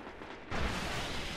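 Gunfire in a Destiny Iron Banner match: quieter shots at first, then from the middle on a dense, loud burst of rapid game weapon fire and explosive noise that fills the rest of the moment.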